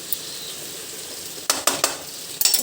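Potatoes and beetroot fry in a pan with a steady sizzle, broken by a few sharp scraping stirs of a utensil against the pan.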